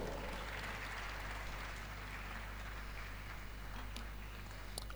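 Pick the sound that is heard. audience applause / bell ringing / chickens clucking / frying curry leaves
audience applause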